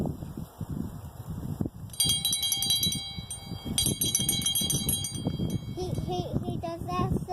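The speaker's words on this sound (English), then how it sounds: "he's got a jingle bell" A small jingle bell worn by a horned farm goat named Masad rings in bright, rapid bursts of shaking, with two longer jangling spells and lighter tinkles, close by amid rustling and background noise.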